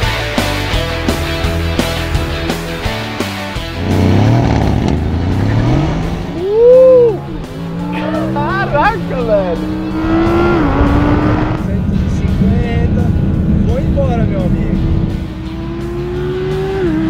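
A turbocharged race car engine revs hard and accelerates away, pitch climbing through several gear changes, loud and close with a brief squeal.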